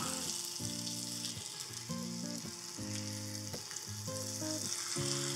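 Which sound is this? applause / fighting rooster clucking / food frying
food frying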